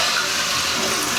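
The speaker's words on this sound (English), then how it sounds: "That flapper goes down way too quick." A toilet flushes with a loud, close, steady rush of water after its lever is replaced, the flapper dropping too quickly.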